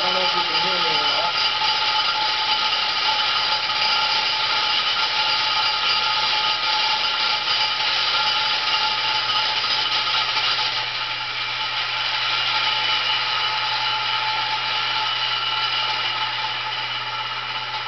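A blade sharpener grinding a blade, with a steady, loud, continuous mechanical whine and hum that runs unbroken for the whole stretch, easing slightly in level partway through.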